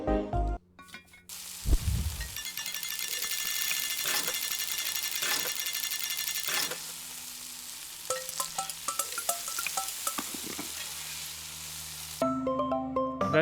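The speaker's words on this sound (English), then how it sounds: "Vegetable stir fry again." Vegetable stir fry sizzling in the video game Eastward, a steady broadband frying hiss running for about ten seconds with soft rhythmic tapping and stirring accents, followed by short chiming game tones and a few brief ticks near the end.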